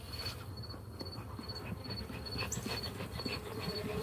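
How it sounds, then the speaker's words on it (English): Agitated honey bees buzz around an opened hive full of honey during a nectar dearth, a faint, continuous drone with a thin high whine running through it and no talking. "Mad bees, mad bees, mad."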